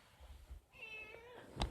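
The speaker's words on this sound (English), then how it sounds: "My cat is sitting here." A cat meows once, a clear rising-then-falling call heard up close in a quiet room, followed by a brief soft thump.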